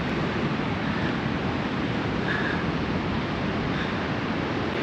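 Surf rolling onto a beach in Morocco, a steady broad roar of breaking waves close by with some wind buffeting the microphone, continuous and even with no talk.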